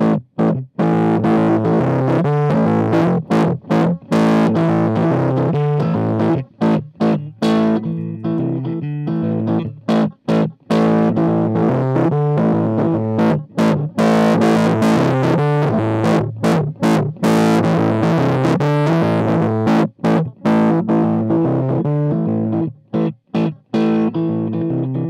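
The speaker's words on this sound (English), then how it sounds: "Let's move on to the Marshall Governor, a pedal which I never was much of a fan on" Marshall Governor distortion pedal emulation from the Analog Obsession PEDALz 1.0 plugin on electric guitar: loud, dense distorted chords and riffs played for about 25 seconds, with sharp stops and restarts, close and alone.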